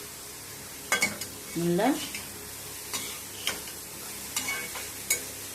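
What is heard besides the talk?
grated carrot sautéing and being stirred in a pan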